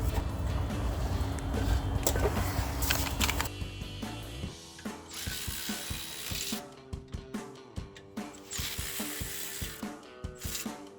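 An air ratchet tightens 19mm brake bolts on a 2010-2015 Camaro SS while a PowerStop Z26 rotor and pad kit goes on. Loud mechanical whirring gives way to rapid, repeated ratcheting clicks in short bursts, close up and without talk.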